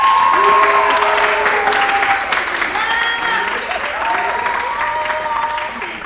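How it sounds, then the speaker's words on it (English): Audience applause at a talk-show taping for a screenwriter, producer and director guest, a dense sustained clapping that stays loud throughout, with some tonal sounds running over it. "Y'all give a round of applause."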